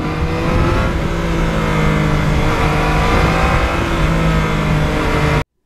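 A Yamaha MT-09 motorcycle engine runs loud and close in a steady, humming rev with no break, then cuts off sharply at the very end.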